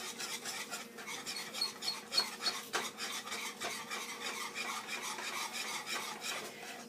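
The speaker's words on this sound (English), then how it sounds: "Quickly, we whisk." A whisk beating an egg-thickened rice pudding mixture in a pot, with quick rhythmic scraping and swishing strokes that rise and fall unevenly, close and fairly soft, with no talk.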